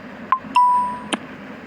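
A Telegram chat notification plays the Music Box tone: a few bright, bell-like chime notes ring out on their own over a faint background hum, the middle note sustaining and fading gently.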